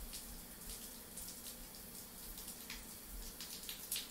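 Scalding water running from a tap in a life simulation video game, a faint continuous splashing stream with light droplet spatter throughout, no voices.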